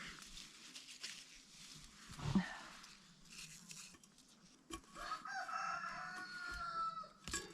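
Chickens cluck close by with a rooster crowing among them at a cabin where fireweed grows, a busy barnyard chorus of rising calls and short clucks.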